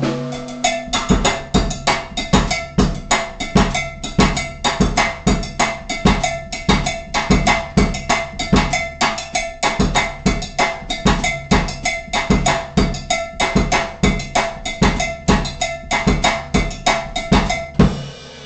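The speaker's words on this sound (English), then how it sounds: "Your cowbell plays the cumbia." Cumbia drum pattern on a kit with steady cowbell, clave, hi-hat and bass drum, a loud, driving rhythmic groove repeating evenly throughout with no voices.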